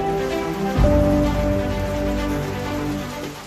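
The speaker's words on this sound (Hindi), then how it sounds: "बाहर बहुत जोर से बारिश शुरू है।" Heavy monsoon rain falls outdoors near the Sateri Mahadev temple, a loud, steady wash of noise with no voices.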